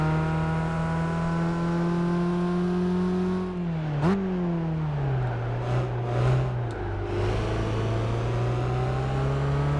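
A race car engine in Gran Turismo 5 holds a high, steady whine, then drops in pitch as the revs fall, with a short blip, continuous and close with no talking.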